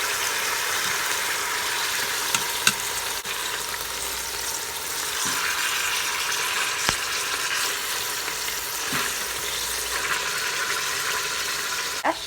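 Oxtails searing in hot fat inside an Instant Pot give a steady, dense sizzle for the whole stretch, with a few soft clicks and bumps from handling and no one talking.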